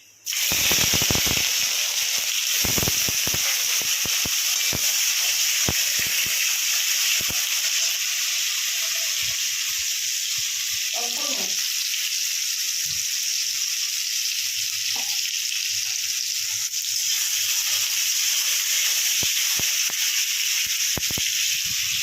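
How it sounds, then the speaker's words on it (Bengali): Whole cumin, nigella seeds and tomato sizzle loudly in hot oil, a steady close hissing fry with occasional crackles and spoon taps throughout, no talking. "ফুটনে দেবো বন্ধুরা গোটা জিরা আর কালো জিরা। একটুখানি টমেটো দিয়ে দেবো তেলের মধ্যে।"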